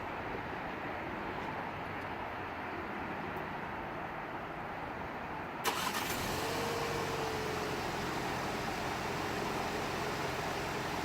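A 2017 VW Jetta GLI with manual transmission idles after a remote start, a steady low engine hum that rises after a sharp start-up change partway through, with a faint whine running through it.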